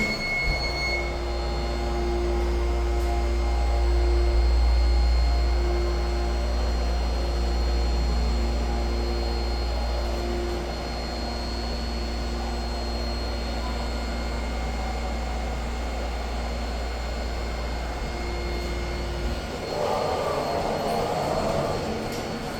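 A Schindler scenic hydraulic elevator at The Mall at Millenia in Orlando, Florida travels between floors with a loud, steady low hum and faint whine, then settles and eases to a stop near the end.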